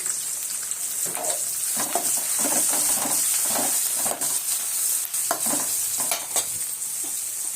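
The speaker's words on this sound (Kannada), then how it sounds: "ನೆಕ್ಸ್ಟ್ ಈರುಳ್ಳಿ ಹಾಕ್ಕೊಳ್ಳಿ. ಬೆಳ್ಳುಳ್ಳಿ" Onion and garlic sizzle in hot oil in a pan for mango chitranna, a steady close frying hiss broken by repeated scraping stirs of a spatula.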